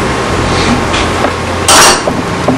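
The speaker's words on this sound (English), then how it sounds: "And I'm going to mix that in." Basil, oregano, paprika and parsley stirred into marinara sauce in a pot: a few scattered clinks and scrapes of a utensil against the pot, with one louder brief scraping burst near the end.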